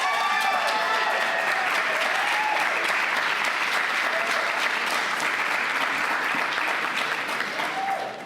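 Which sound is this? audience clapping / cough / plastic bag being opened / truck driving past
audience clapping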